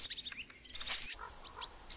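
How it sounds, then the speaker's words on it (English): Birds chirping in a forest: several short, high tweets and whistles come in scattered bursts over quiet background hiss. "Birds can be observed in the forest throughout the year, regardless of the time of day and weather conditions."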